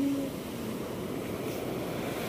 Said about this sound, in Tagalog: Nalaki ng alon.